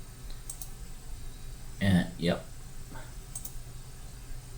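Computer mouse clicks while setting up FPGA programming software at a desk: two or three sharp, close clicks near the middle over a quiet room hum, with brief talk around them.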